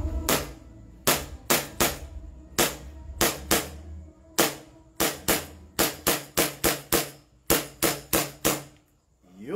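An SRC 2011 Hi-Capa 5.1 airsoft pistol fires about twenty sharp, loud, close shots, some single and some in quick runs of two to four, with short pauses between them.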